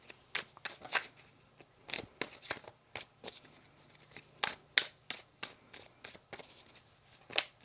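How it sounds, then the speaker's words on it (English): Rapid bursts of tarot card shuffling, crisp riffling snaps repeating in quick clusters, close up and fairly quiet with no talking. "One more shuffle here."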